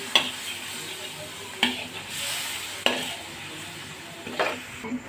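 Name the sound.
stirring chicken jalfrezi sauce with soy sauce and ketchup in pan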